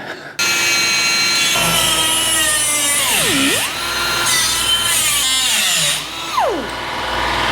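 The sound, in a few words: power tool cutting out rusted panel on 1953 GMC cab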